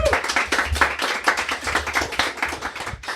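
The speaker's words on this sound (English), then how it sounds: "Round of applause, please." Studio audience clapping to welcome a guest on a talk show, a small group heard close up with dense, uneven hand claps throughout, fairly loud and with no talking over it.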